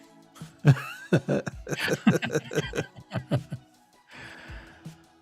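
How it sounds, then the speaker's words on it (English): Repeated throaty rasps and hacking sounds in a quick irregular series, close and fairly loud, ending with a breathy exhale. "let me clear my throat"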